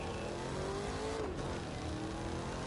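A car in the racing game The Crew 2 drives with a steady engine drone whose pitch rises, dips briefly, then settles, with road and tire noise alongside.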